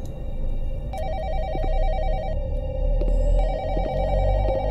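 An old-style telephone bell rings in a horror video game, repeated electronic ring bursts sounding over a low rumbling ambient drone, fairly loud and close, with no one talking.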